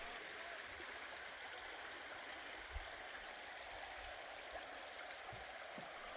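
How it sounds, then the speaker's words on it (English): Soft, steady trickle and gurgle of a rarely flowing creek in the Simpson Desert, faint and continuous with a few small splashes and no voices. "watching the Air Creek flow."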